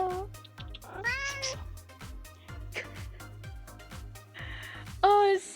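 A pet cat named Oracle meows several times, loud and close, the high rising calls standing out over a steady low hum and soft background talk.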